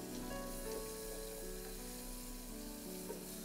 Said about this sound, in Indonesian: Baik, kita tumis sampai wangi.